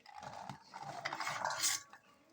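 Boiled potatoes and chickpeas tipped into an open pan while making chana chaat, giving a couple of seconds of soft clattering, scraping and rustling of food against metal, close and moderately quiet, with no talking.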